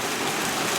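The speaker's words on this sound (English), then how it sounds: "The rain continues." Heavy rain falls outdoors in a steady, dense hiss of drops with no break in the brief stretch.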